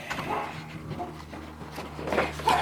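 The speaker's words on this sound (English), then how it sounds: "That's my dog." A pet dog indoors gives soft whimpers and a few short barks, fairly quiet and intermittent, with a louder yip at the end.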